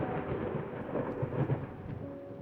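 Low rolling thunder rumble from a storm in the horror game Layers of Fear, a steady dull roar lasting throughout with no voices.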